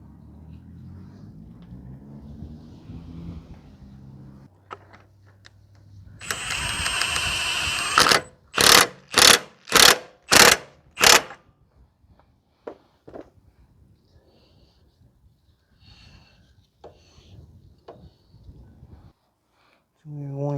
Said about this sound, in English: Install the new axle nut.